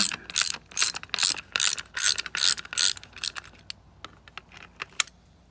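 Torx screws are backed out of a BMW X5 driver door with a P30 Torx kit, giving a close, rapid series of ratchet clicks in bursts that fade to a few scattered ticks.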